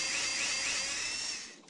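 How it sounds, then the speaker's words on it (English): A power drill in the Tonka Workshop game whirs steadily while boring holes in a sled, a brief, close, high-pitched electric whine that fades out at the end. "You'll need to use your drill to put 2 holes in the front for the rope."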